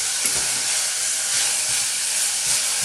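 Onions sweating down in a pan for a beef madras, a continuous soft hiss and sizzle held at an even level from start to end, with no talk.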